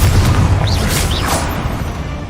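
A Confringo spell explosion in Hogwarts Legacy, a single heavy boom at the start that rumbles and fades, with brief bright magical whooshes on top.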